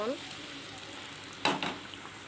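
A pan of fish in spice masala sizzles steadily with a light crackle, broken by a brief scraping stir near the end; no one speaks.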